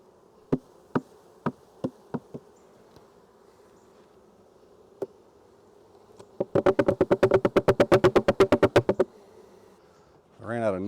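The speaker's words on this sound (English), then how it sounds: "I got to get all these bees off of this lid because I'm not using it anymore." Honey bees buzzing around a beehive lid being cleared by a beekeeper, a few sharp knocks followed by a rapid burst of regular tapping, then a brief rising buzz at the end.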